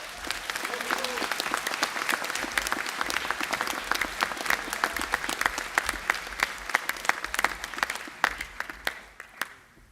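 Sustained applause fills a graduation ceremony hall in Christchurch, many hands clapping in a dense, even patter that thins slightly toward the close.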